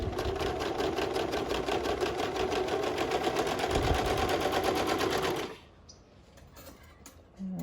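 A sewing machine stitches fabric for a two-piece dance set in a steady, fast, loud needle rhythm that runs for about five seconds, then stops abruptly, leaving quiet handling noise.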